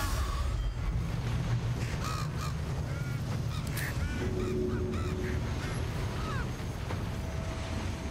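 Birds squawking and cawing in Baldur's Gate 3, a loud stream of harsh honking and crowing calls layered over constant game noise and low rumble throughout.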